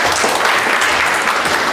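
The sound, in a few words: applause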